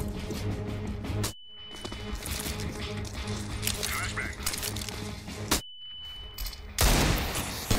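Gunfire in Counter-Strike: Global Offensive, bursts of rapid shots with metallic clinks and footsteps, broken by two brief silent gaps, with a player talking over the action.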